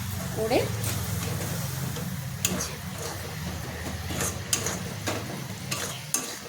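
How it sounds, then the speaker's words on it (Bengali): A spice paste of ground chili fries in a pan after a splash of water, giving a soft sizzle with scattered stirring scrapes and clacks while a person talks over it. "মশলাটা যাতে পুড়ে না যায় একটু জল দিলাম। এবার এটা ভাজা ভাজা করছি"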